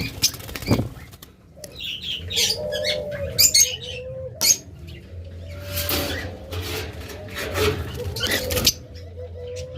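Ring lovebirds kept in a cage give repeated close chirps and tweets, with bursts of wing flapping and fluttering scattered through, some soft cooing-like calls underneath, and a steady bird chatter throughout.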